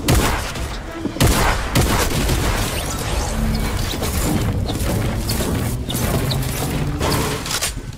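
Heavy gunfire in a shooter video game, a loud, sustained barrage of rapid shots and crashing impacts filling the whole stretch, close and continuous.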